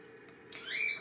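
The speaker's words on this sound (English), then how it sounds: "that's one of my birds. You can hear her squawking" A pet bird lets out a single short, rising squawk, fairly faint against low background hum.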